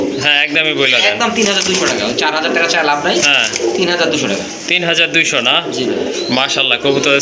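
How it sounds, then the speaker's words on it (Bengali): Big Black Bombay and Australian pigeons coo continuously at a pigeon seller's collection in Gazipur, with voices mixed into the dense, steady cooing. "সাইজ দেখেন বিগ সাইজের কবুতর দেখার মতো কিন্তু অস্ট্রেলিয়া বেলার এক জোড়া কবুতর"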